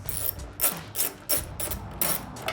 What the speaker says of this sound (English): Now grab your 10mm bolts and your ratchet with extension and 10mm socket.